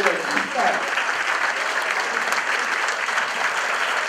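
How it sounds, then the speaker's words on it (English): Audience at a church reception applauding newly ordained priests, a full, sustained burst of clapping from many hands with murmuring voices mixed in. "I give them a round of applause"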